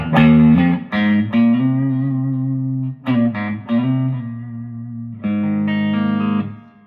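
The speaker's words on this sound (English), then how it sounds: "this is a big reverb" An electric guitar through a Victoria amp plays loud sustained chords and notes, each ringing out long under a big, washy reverb tail.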